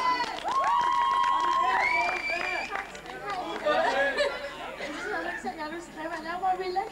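A lively crowd of students at a Danish boarding school shouts and cheers, with excited voices overlapping in a dense, loud burst that settles into continuous noisy chatter.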